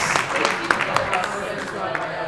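An audience at a holiday event applauding, scattered close claps mixing with crowd noise while a voice talks over them.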